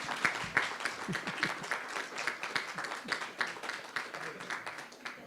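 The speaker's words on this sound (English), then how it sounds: "let's give them a round of applause" A panel discussion audience claps for the panelists, a steady round of many hands at moderate volume that carries on for the whole stretch, with a voice heard briefly.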